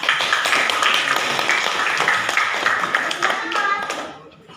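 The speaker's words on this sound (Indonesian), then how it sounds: "kita beri applause dengan jawaban Horas" Classroom applause from students, a dense burst of many hands clapping together that stays loud and steady, then tapers off toward the end.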